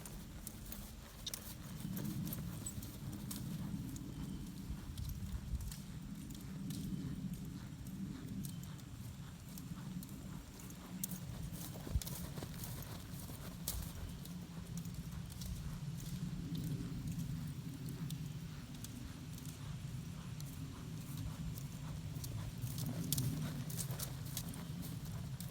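A horse cantering on a farm, giving steady, continuous hoof clip-clop under a constant low rumble, with no clear pauses.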